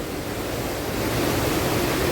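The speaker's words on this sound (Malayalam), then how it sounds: "ഇതിനടിയിൽ കൂടെ വെള്ളം പോകുന്നു" Water rushes beneath the rocks inside a cave as a steady, broadband rushing with no voices, holding even and fairly loud for the whole stretch.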